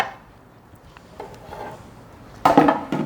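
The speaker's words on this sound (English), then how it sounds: "we'll take it and put it on our dish here" An orange cake made from three ingredients is set down on a serving dish, giving a brief clatter near the end after a quiet stretch; nobody speaks.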